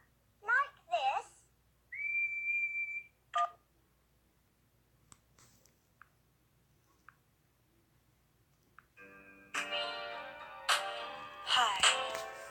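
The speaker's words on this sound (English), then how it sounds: "What's whistling anyway? You put your lips together and blow." A person whistles several short, close tones, then a long sustained note and, after a quiet stretch of small clicks, a louder run of warbling whistles near the end.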